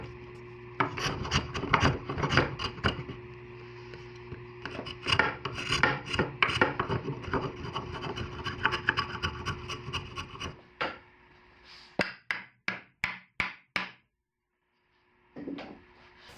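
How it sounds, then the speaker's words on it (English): A half-round rasp shapes the hollow of a wooden paddle grip, making rapid rhythmic scraping strokes close up, followed by a few slower separate strokes and a brief final pass after a pause. "I did end up using a half-round rasp to get into the hollow of the grip."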